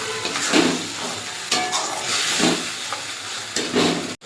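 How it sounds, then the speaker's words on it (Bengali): A spoon stirs a milky poppy seed and cashew spice paste in a hot pan for cauliflower rezala, with close scraping strokes in a loose rhythm over a steady sizzle, no talk. "মশলাটা দিয়ে ভালো করে নাড়তে থাকতে হবে"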